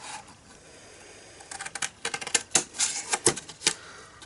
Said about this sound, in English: we're going to cut up and remove this little triangle here.